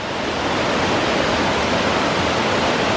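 A waterfall roars steadily close by, a dense, even rush of falling water with no breaks from start to finish.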